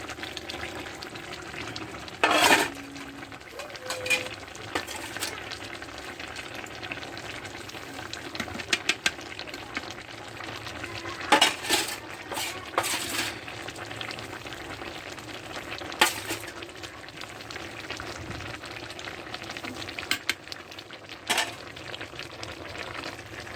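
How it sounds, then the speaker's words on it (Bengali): Ground spice paste going into a thin fish curry with potatoes, simmering in a pan: a soft continuous sizzle and bubble, with occasional louder clatters and scrapes of stirring scattered through, and no one talking. "বেটে রাখা সেই মশলাটা আমি দিয়ে দেবো।"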